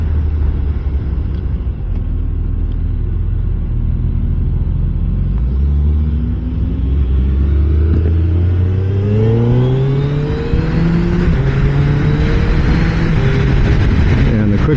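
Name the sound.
motorcycle accelerating and shifting with quick shifter, Suzuki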